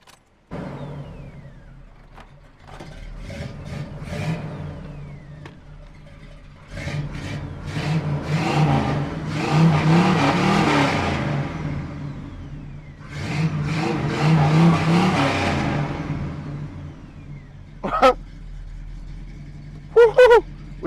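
A car running on race fuel revs in repeated swells, rising and falling through long pulls with short sharp bursts near the end, close and fairly loud.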